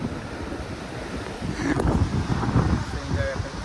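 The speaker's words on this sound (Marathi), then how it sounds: "एवढी भारी हवा सुटली" Strong wind on the Konkan coast at Harihareshwar, Shrivardhan, buffets the microphone in rumbling gusts that swell louder midway, with voices faintly mixed in.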